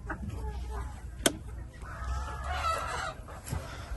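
Free-range desi poultry chickens cluck and squawk nearby at moderate volume. One sharp call stands out, with scattered softer clucks around it and a little background noise.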